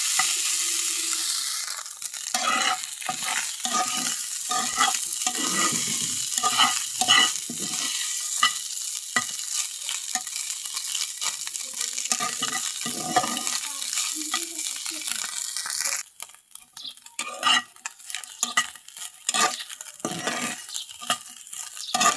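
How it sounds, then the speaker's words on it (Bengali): Garlic, onion and taki fish frying in a little oil in a pan, with steady sizzling, stirring scrapes and occasional utensil clinks throughout, close and fairly loud. "হালকা একটু তেল দিয়ে ভেজে নেব এখন।"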